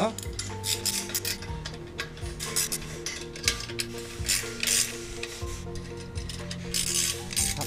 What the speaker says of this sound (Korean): 바로 공구 활용해서 조여 주시면 되겠습니다